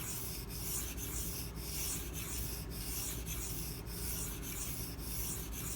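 Case Southern Grind CG01 knife blade drawn repeatedly across a sharpening stone, a steady scraping rub in even strokes, close and continuous with no talk.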